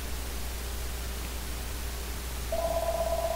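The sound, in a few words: phone ringing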